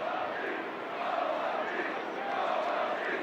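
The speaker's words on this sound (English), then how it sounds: "Another spirited crowd here tonight at the Big A, getting into this one in the 9th inning." Baseball crowd at Angel Stadium in the 9th inning, a steady, spirited roar of many voices holding at an even level throughout, with no distinct individual calls.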